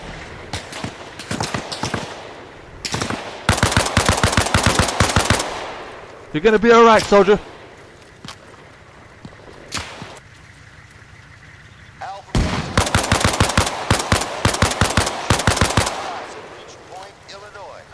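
Bursts of machine gun fire rattle through a firefight in the video game Arma Reforger, with long rapid volleys, a pause, then another extended stretch of automatic fire, loud and close, while someone shouts over the shooting.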